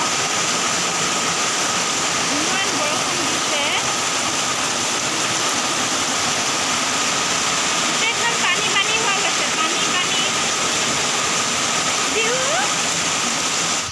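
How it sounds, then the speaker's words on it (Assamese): Rain and wind in bad weather make a dense, steady, loud hiss that continues without pause throughout. "ইমান বেয়া বতৰ বৰষুণো আনিছে বতাহো মাৰিছে"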